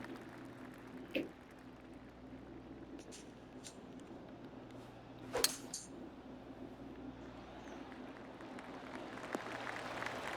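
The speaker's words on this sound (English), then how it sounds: "Oh, golf clap." A soft golf clap from a gallery in the PGA Tour 2K25 video game, a light patter of applause under steady ambient tones, with a couple of sharper isolated claps standing out.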